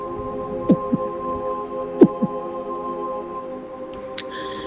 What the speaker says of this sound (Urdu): انہیں اپنے دھڑکن اپنے کانوں میں سنائی دینے لگی۔